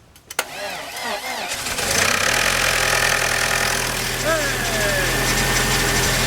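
A Volkswagen Passat with power steering problems is jump-started: the starter cranks briefly, then the engine catches and settles into a steady, loud idle up close, with a voice speaking over it.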